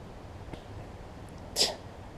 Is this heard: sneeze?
yes